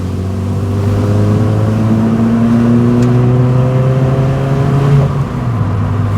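A Renault Wind with its exhaust button engaged accelerates hard, the engine note climbing steadily in pitch with a loud, close exhaust drone before easing briefly near the end.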